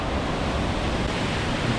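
Steady broadband roar of the waterfall at Shepherd's Dell in Oregon's Columbia River Gorge, a constant rushing wash with no pauses and no voices.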